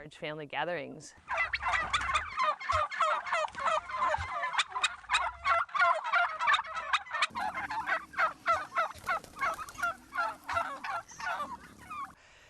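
Turkeys gobble continuously in rapid, rattling bursts, loud and close, with several birds calling over one another throughout.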